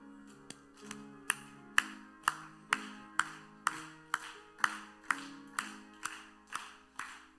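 A congregation claps in a steady rhythm while singing a hymn at an early-morning church prayer service, roughly a dozen evenly spaced claps over sustained singing, fairly quiet and distant.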